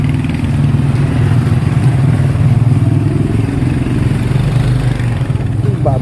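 Suzuki Gixxer 250 motorcycle engine running close by, a steady loud low rumble with no clear revving, while people talk over it.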